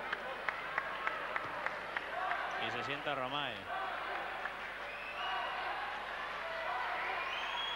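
A basketball arena crowd claps and murmurs during a 1991 Liga ACB game between Huesca La Magia and Real Madrid. A commentator talks over the applause, and a few sharp ball bounces are heard early on.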